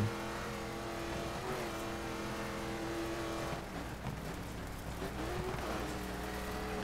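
Rally car engine in Dirt 3 holding a steady, sustained drone with throttle held on, continuous and fairly loud with slight pitch shifts throughout.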